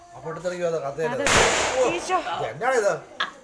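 During a night-time New Year celebration, a firecracker bursts with one sharp, loud bang, followed by a hiss. Voices talk and react before and after it.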